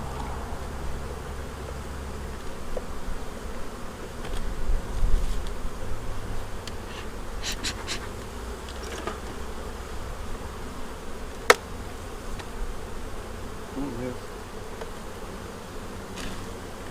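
Honey bees buzzing at an opened beehive during a spring brood inspection and hive split, a dense continuous drone close around, with occasional faint knocks and one sharp click.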